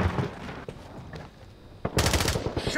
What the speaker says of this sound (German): die schießen auf mich!